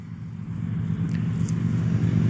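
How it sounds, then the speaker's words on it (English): Road traffic passes by as a steady low engine rumble and tyre hum that swells slightly, continuous and fairly close, with no talking. "Sorry about the traffic. Never ends."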